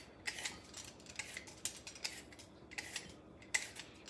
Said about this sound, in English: I'm gonna use our peeler, which is easy to use.